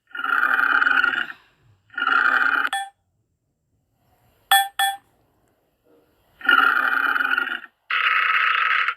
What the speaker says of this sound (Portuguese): Este é o som do tigre.